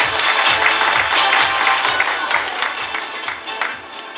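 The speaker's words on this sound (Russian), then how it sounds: "аплодисменты" Audience applause at a Miss Bikini pageant, a dense steady wash of clapping from a crowd that stays loud throughout and thins slightly toward the end.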